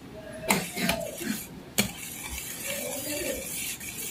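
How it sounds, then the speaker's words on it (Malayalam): Spoon scraping and clinking in a bowl while an anti-dandruff gel mixture is stirred, with a couple of sharp taps against the rim early on and a soft, continuous mixing scrape after, close and fairly quiet. "മിക്സ് ചെയ്തെടുക്കുക."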